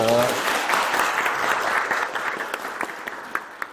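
An audience applauds to welcome presidential hopeful Lee Jae-myung at a Saemangeum future energy event, a full burst of clapping that thins and tapers into scattered claps by the end.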